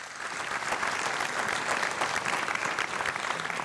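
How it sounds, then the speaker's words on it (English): An audience at the 2022 Mānoa awards ceremony at UH Mānoa, back in person, gives a sustained round of dense applause that stays even and fairly loud throughout. "how about a round of applause"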